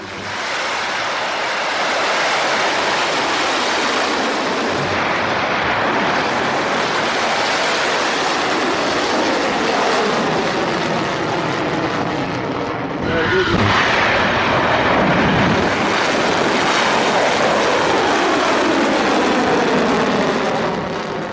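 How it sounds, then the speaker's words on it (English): Iranian Qadr and Imad ballistic missiles launching, heard as a loud, sustained broadband roar and rush that swells and continues for the whole stretch, with no voices. "Iran released footage showing the launch of its missiles, especially the Qadr and Imad missiles."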